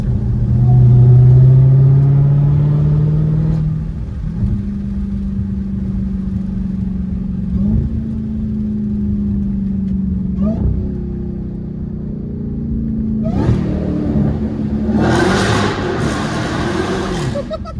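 A Dodge Hellcat Redeye with an 800 hp engine revs hard inside a tunnel. The loud, droning roar swells in repeated bursts that echo off the walls, and a loud, hissing surge comes near the end.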